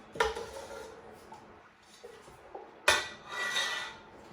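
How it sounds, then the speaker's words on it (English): A metal utensil scrapes stuck food off the bottom of a cooking pot during home canning, two loud clattering strokes with softer scraping between, close and without talk. "There's a little bit of stickage at the bottom here, so just kind of scrape this up."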